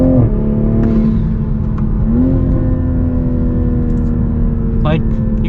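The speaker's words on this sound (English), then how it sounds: "The passing power of the Supra!" A 2021 Toyota Supra accelerates to pass on a canyon road, a loud, steady engine drone heard from the cabin after a brief shift, with a voice speaking over it.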